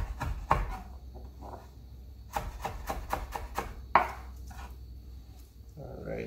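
Knife chopping through callaloo leaves on a board for Jamaican stuffed steamed fish, a quick series of sharp close chops in two clusters with a pause between, fairly loud and alone.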